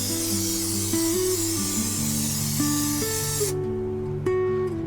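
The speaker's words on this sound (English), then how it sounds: "So, spray adhesive." A steady, loud hiss of spray adhesive from an aerosol can inside a Fiat Ducato van roof, held for about three and a half seconds, then cutting off, over a low background hum.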